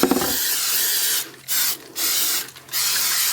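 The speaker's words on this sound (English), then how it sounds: "you do want to spray the back of the stencil very, very lightly" Repositionable adhesive spray hisses from an aerosol can onto the back of a Cricut-cut stencil in three bursts, each loud and close, with short gaps between.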